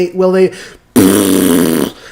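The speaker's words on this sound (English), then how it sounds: "my butt vibrated like crazy from my farting hanging out" A loud, sustained fart-like blast lasting about a second follows a short tonal sound and a brief pause, close and prominent, with no speech.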